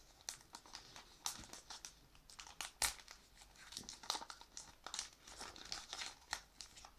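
A Lego trading card booster pack is torn open, with close, crisp crinkling and ripping of foil wrapper in irregular bursts throughout, quiet overall.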